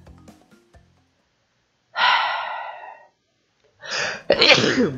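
A person sneezes: a brief soft breathy intake, a silent gap, then a sharp loud burst followed by a shorter explosive one, with faint clicks at the start.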